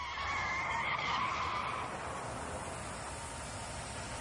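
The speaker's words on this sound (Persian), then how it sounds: "چرخ ماشین کفید." A car tire bursts and skids with a long, harsh hiss and scrape, loud at first then fading slightly into a steady noisy rush.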